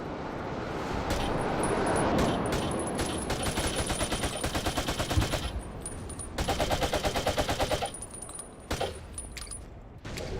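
Bursts of automatic rifle fire rattle in a pitched battle in Battlefield Vietnam, with rapid sustained volleys broken by short pauses and distant shots mixed in.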